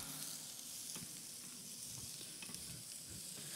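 Mushrooms sautéing in a pan give a steady, soft sizzle with occasional stirring scrapes, fairly quiet and continuous with no voices.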